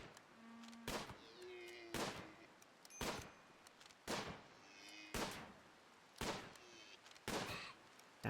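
Colonists firing guns in the RimWorld video game: about seven sharp, evenly spaced shots roughly one second apart, each cracking out over a quiet background.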